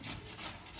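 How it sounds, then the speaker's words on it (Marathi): Potatoes are grated by hand, giving a brief, continuous rasping scrape heard close up. "इकडे चालू आहे बटाटा किसिंग."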